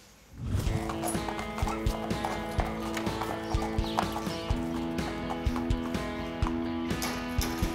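A large horse's hooves clip-clopping in a steady rhythm over a sustained droning tone, the footfalls close and even throughout.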